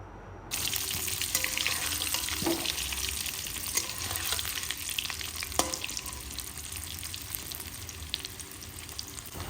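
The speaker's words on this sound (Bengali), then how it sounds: "অল্প পরিমাণ ফুড কালার দিয়ে আলুগুলো ভালো করে লাল লাল করে ভেজে নেব" Potato pieces tossed with a little food colouring fry in a pan for mutton biryani, a steady close sizzle with occasional stirring scrapes and clinks, no talk.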